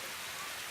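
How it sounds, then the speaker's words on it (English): Rain falling outdoors, a dense steady hiss of drops with no voices. "We're gonna go out there in the rain."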